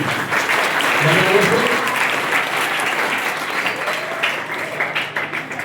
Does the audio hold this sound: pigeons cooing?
no